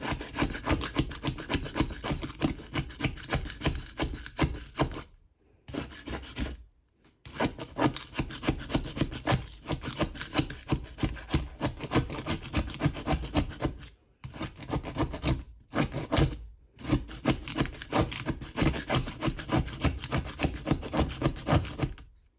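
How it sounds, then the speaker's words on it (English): A razor blade scraping grime from a glass stove top makes continuous close, gritty rasping strokes in a steady back-and-forth rhythm, broken by a few short pauses. "taking a razor blade to my stovetop"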